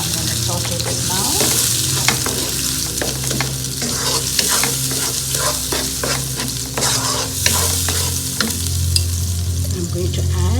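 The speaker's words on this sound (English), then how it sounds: "So I'm going to saute this now." Onions and red chili sauté in a pan for nasi lemak, a loud, constant close-up sizzle with a low steady hum underneath and repeated scraping stirs throughout.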